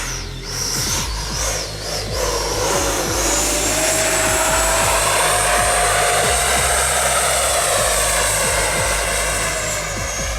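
A loud, high-pitched electric ducted-fan whine sweeps overhead, rising and falling as a Freewing MiG-29 twin 80mm RC jet flies close by, continuous for the whole stretch.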